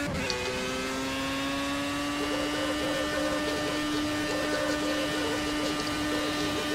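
A race car in Project CARS on Xbox One holds a steady engine drone down a straight, a sustained harmonic whine with slight wavering pitch, loud and continuous with no talk.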